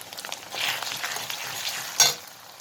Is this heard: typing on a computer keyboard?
no